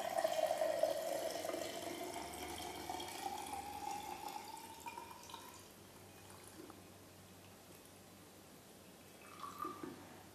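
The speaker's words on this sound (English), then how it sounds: "the glass container is placed on the stand and filled with the experimental liquid of the container up to the 3/4 height" Experimental liquid filling a glass container on a stand, a steady stream of pouring with a rising ringing tone for several seconds that tapers off, followed by a quieter stretch and a brief final trickle.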